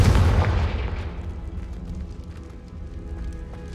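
In the video game Hogwarts Legacy, the Confringo fire spell is cast, setting off a heavy booming blast up close that rolls and fades over a few seconds into a faint rumbling tail.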